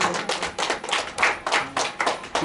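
An audience claps for a young boy performer at a stage event, giving loud, rhythmic applause in steady beats that sounds close and unbroken.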